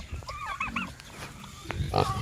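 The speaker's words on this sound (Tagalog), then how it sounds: "Yun yung native na baboy natin" A native pig grunts and snuffles close by, with a few short nasal grunts over a low, busy background while it lies down and eats.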